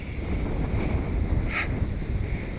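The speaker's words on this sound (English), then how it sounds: "It's getting really windy again." Strong wind blows outdoors in a steady, rumbling gust that buffets the microphone, a continuous low roar with no voices.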